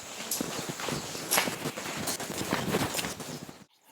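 A cow's hooves thud and clop in an uneven walking rhythm on hard ground, close by, before the sound abruptly stops.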